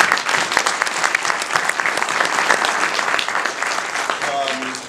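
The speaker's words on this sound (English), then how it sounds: "So if we could give Sarah a round of applause." A presentation audience claps loudly and continuously, a dense close wash of applause sustained for several seconds before beginning to fade.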